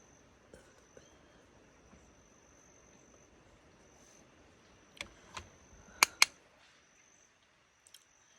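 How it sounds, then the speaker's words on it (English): A faint, steady high-pitched cricket chirp runs through a quiet background, with a few sharp clicks and taps near the end. "I can like hear the birds chirping and the crickets chirping."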